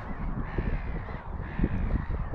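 Crows caw outdoors amid a dense wash of background noise, harsh calls overlapping and fairly loud, with no talking.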